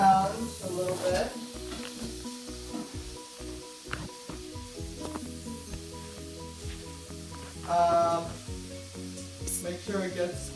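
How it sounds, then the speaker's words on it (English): Ground beef browns in a hot pan, a low steady sizzle broken by scraping stirs of a utensil against the pan. "right now I'm just browning my ground beef"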